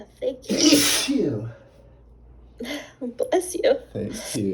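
One loud, sharp human sneeze bursts out near the start, followed after a quiet gap by a person talking close by.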